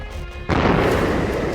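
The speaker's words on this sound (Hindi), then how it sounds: "तेहरान की सुबह एक बार फिर धमाके की आवाज से कांप उठी।" A single blast in Tehran hits suddenly after a quiet moment, a loud broadband boom that stays as a heavy rumbling roar for the rest of the short stretch.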